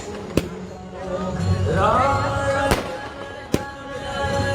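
Fireworks bursting over Ajmer, with three sharp loud bangs spread across a few seconds and a swelling whistle or crackle between them against a continuous outdoor background.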